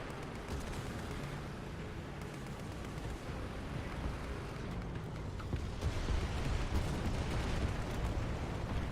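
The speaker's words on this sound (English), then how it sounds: "that's their artillery that was dropping" Artillery shells drop and explode in a video game, a continuous heavy rumble of blasts that builds slightly louder toward the end, with no talking.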